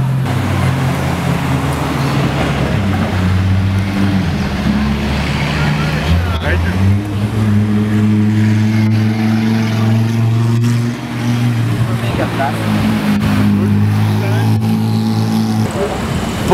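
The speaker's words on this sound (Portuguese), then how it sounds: "Porsche." A Porsche sports car passing on a city street among other sports cars, a loud, droning engine note rising and falling over steady traffic noise, with people talking nearby.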